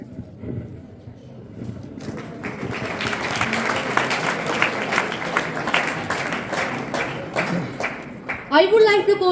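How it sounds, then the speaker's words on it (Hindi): Audience applause at a 12th-class school farewell, a dense wash of clapping building and sustained across the hall, with a voice speaking over it near the end. "तालियों के साथ आप सबका प्यार चाहिए।"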